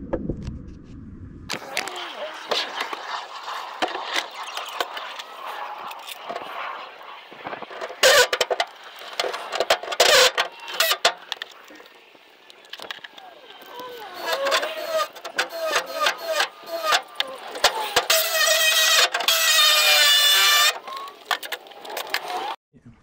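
An angle grinder cuts through the sheet-metal body panel of a Renault Master van in loud, harsh bursts with gaps between, grinding and screeching, plus a shorter hum at the start.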